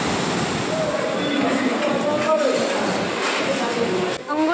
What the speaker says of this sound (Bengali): ওদিকে গরম জল পড়ছে